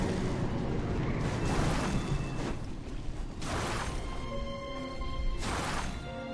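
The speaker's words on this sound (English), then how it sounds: "Fireworks." Fireworks burst and boom in a Genshin Impact game scene, several broad explosive bursts recurring over a dense, steady backdrop of game sound.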